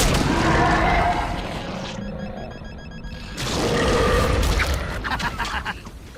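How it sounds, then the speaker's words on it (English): Smart bombs explode in a Transformers cartoon battle, loud blasts at the start and again after a brief lull, with rumbling crashes and mechanical clatter between them. "Smart bombs. They really pack a punch."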